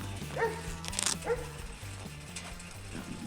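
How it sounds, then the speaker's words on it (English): A dog barks in a few short yips and whimpers, heard faintly and at some distance over a steady low engine-like hum from a group ride outing. "Dog barking."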